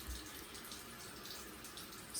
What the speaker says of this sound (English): I'll just keep the water running.